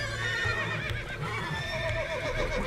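In The Witcher 3, a horse whinnies loudly over steady game music, with soft hoof clip-clop beneath.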